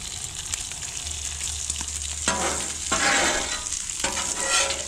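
Sausage and bacon frying on a Blackstone griddle, a steady loud sizzle with scraping and stirring strokes that swell in bursts, no voices.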